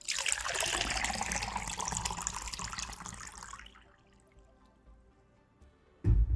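Water pours steadily from a canned drink or filling unit for about three and a half seconds, a close, bright splashing stream that tapers off into quiet, followed by a sudden low thump near the end.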